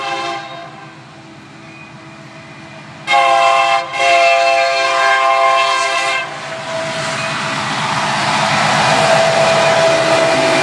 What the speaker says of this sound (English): Oh yeah, here comes a train.